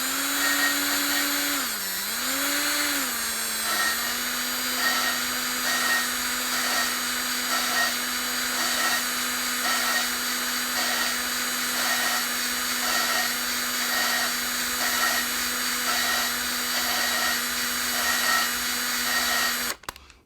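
A power tool laps the valves of a 400 cubic inch small-block Chevy engine, its steady close motor whine holding level with slight dips in pitch and a faint, regular in-and-out pulsing throughout, then cutting off at the end.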